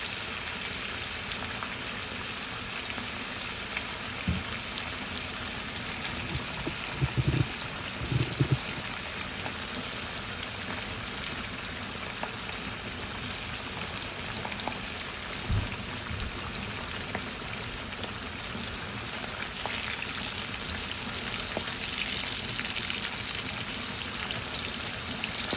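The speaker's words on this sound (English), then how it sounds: "So we're gonna let it fry, and we're gonna flip it over." Fish frying in hot oil for a stewed fish dish, a continuous dense crackling sizzle with occasional sharper pops, steady and close, no voices.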